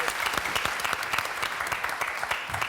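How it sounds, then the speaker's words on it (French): Studio audience of a French TV quiz show breaking into steady, lively applause, close and continuous clapping throughout the short stretch with no talk over it. "Alors là, moi, je l'applaudis."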